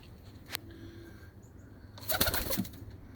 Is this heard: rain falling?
no